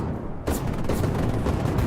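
Gunfire in the Sudden Strike 5 war game erupts after a brief lull, a dense crackling barrage of rapid shots and booms that carries on steadily and loudly.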